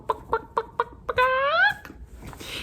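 A chicken clucks in a run of five short, evenly spaced clucks, then gives a longer rising squawk, close and clear with nothing else behind it.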